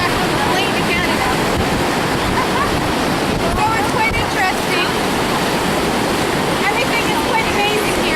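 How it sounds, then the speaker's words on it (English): Ocean surf breaks on a beach in Goa, India, a loud, continuous roar of churning water and wind buffeting the microphone, with someone speaking briefly over it. "The waves are not going to suck me in."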